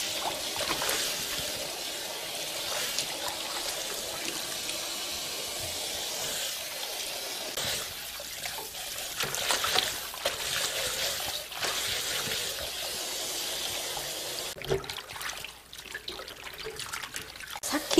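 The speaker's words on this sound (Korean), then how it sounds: "이틀 동안 절였는데 이제 씻어볼게요" Godeulbbaegi greens, salted for two days, are rinsed by hand in water, with continuous close sloshing, trickling and splashing, and bursts of handling and dripping throughout.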